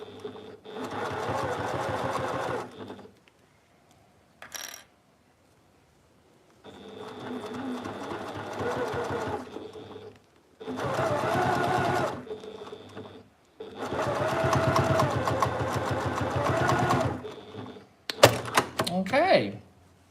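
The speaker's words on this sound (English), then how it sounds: "I'm going to drop my foot down. And I'm just going to keep stitching" Sewing machine stitching fabric for a project bag, running in several steady whirring bursts of a few seconds each, separated by quiet pauses, with a short clatter near the end.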